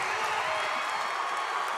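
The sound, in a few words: basketball crowd cheering after a three-pointer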